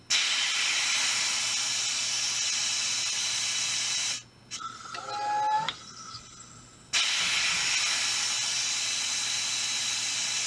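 A booster pump fills the Hammer .50 caliber air rifle, giving off a loud, steady hiss that breaks off midway for a few seconds of squeaky tonal sounds, then resumes.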